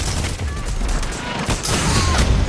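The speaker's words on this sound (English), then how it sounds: "Hand cannons are pretty nasty in this game." Rapid hand cannon fire in a Destiny 2 Crucible match, heard as dense overlapping shots and impacts that keep the clip loud throughout, with a few faint voices under the noise.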